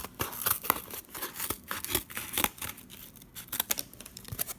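Scissors snip through paper in quick, irregular cuts with some rustling and crinkling, close and fairly quiet, with no talking.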